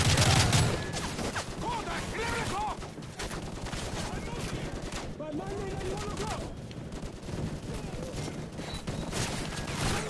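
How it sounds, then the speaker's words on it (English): Dense covering gunfire from automatic weapons in the Call of Duty: Modern Warfare 3 video game, a loud continuous fusillade of rapid shots and bursts filling the whole stretch, with a voice speaking faintly underneath. "Lay down covering fire so we can move up the road"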